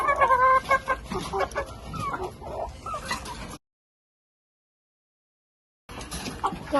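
Young chickens (bisiw) clucking and chirping close by in a farm setting, repeated short calls over rustling noise, with a gap of silence midway before the clucking resumes.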